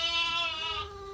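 Two bottle-fed lambs bleat loudly in a long, wavering cry that holds steady and then tapers, close by with no talk.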